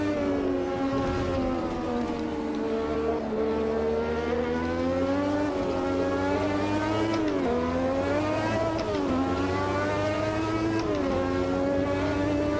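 1986 Formula 1 race cars in the Automobilista 2 racing game at Spielberg, a loud, nonstop high-revving engine whine rising and falling through gear changes, with pitch dips as cars brake for corners.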